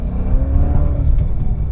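A cheap used Maserati Coupe drives on the road, its engine droning loud and close with a steady low rumble, a slight rise in revs midway, and no voices.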